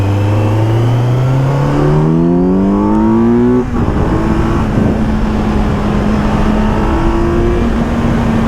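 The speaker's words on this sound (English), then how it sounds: "Just the raw sounds of the motorcycle." A 2023 Kawasaki Z900 motorcycle engine, recorded from inside the rider's helmet, revs up with rising pitch over about three seconds, then drops to a steady loud cruising drone with wind noise while riding on the road.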